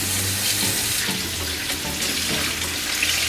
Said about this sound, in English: First, I will wash my shrimp.